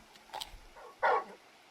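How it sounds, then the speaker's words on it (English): In the Final Fantasy XVI video game, a big dog gives a short yip and then a louder single bark, close and clear, with no talking. "You're just a big puppy,"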